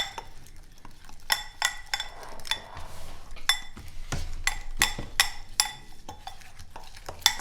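A spoon stirs chocolate coconut protein cookie batter in a bowl, giving a series of sharp scrapes and clinks against the bowl at an uneven rhythm, close and fairly quiet, with no talking.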